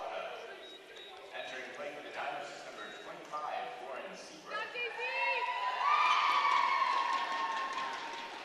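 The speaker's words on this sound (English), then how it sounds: "You hear the cheer from the North Van faithful." Crowd cheering at a basketball game in Canada, rising midway and swelling to a loud sustained cheer near the end, under a commentator's continuous talk.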